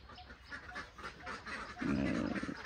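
Several ducks quacking close by at a village duck pen, scattered calls at first, then a louder burst of overlapping quacks toward the end.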